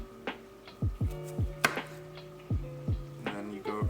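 Soft, evenly spaced taps of a knife cutting slits into garlic cloves on a board, close and quiet, each a short thud with faint ringing, played alone at a steady unhurried pace.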